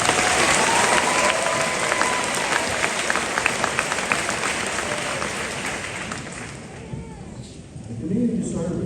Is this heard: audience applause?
yes